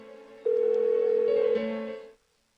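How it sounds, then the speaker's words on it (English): In the Persona 4 video game, a phone rings unanswered: a steady electronic ringback tone starts loud, shifts pitch briefly near the end, then cuts off into silence. "Why won't she pick up the phone?"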